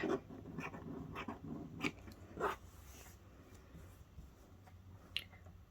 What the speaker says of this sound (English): I'm just going to cut out some rough squares